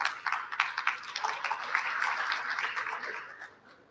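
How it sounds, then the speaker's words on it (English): Conference audience applauding a fireside chat panelist on a live stage, a dense burst of clapping that swells quickly, holds steady, then tapers off toward the end. "Could you please give her a round of applause?"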